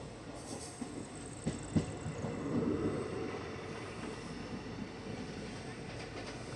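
Marathwada Express rumbling past on the adjacent track during a crossing near Sarwadi station, heard from aboard the Nandigram Express as a steady, fairly loud rail roar with a few sharp wheel knocks and clatter.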